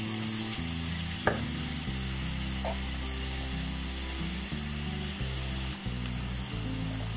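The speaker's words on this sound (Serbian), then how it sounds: "Posebno u tiganju propržite jednu srednju glavicu crnog luka" A medium onion fries in a pan with a steady background sizzle, while a loud, constant layered tonal hum dominates throughout and a couple of brief clicks cut through.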